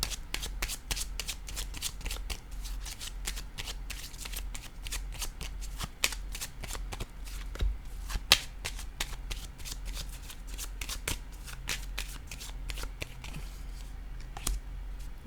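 Playing cards shuffled and handled continuously during a tarot-style card reading, with a steady stream of soft riffling, flicks and slaps at close range and no talking.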